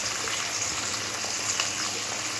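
Pabda fish coated in salt, turmeric and mustard oil sizzle in a pan of mustard oil, giving a steady, close, even hiss with no breaks.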